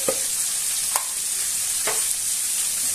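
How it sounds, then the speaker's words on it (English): A chorizo omelette mixture with paprika fries in a pan, giving a steady close sizzle broken by a few soft spoon scrapes, with no voices. "I'm going to fry it until it's all nice and soft, and the chorizo has shed its juices"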